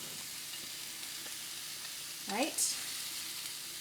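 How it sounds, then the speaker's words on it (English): Chopped onion going into hot oil in a small skillet to fry until crispy, a soft steady sizzle with a brief burst of stirring and louder crackle near the middle, a voice speaking briefly. "So I've got the rest of that onion going into a small skillet here."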